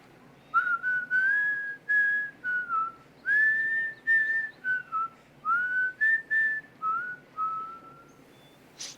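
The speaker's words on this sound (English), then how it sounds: "can you whistle it for me so I can kind of hear how it goes in your head?" A person whistles a wavering melody of about a dozen sustained notes, clear and close, with short pauses between phrases and no talking.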